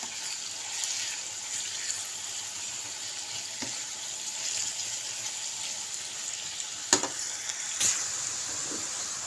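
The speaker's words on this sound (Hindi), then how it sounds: "ये प्याज हम इसमें ऐड कर देंगे और अब हम इसको भी इसके साथ ही भूनेंगे" Finely chopped onion fries in a pan with cumin and whole spices, giving a soft, steady sizzle with a couple of sharp clinks from stirring.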